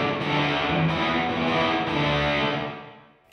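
An electric guitar played through heavy reverb and a distortion pedal rings out in a dense, sustained wash of sound that swells and then decays into a long reverb tail, with no talk over it.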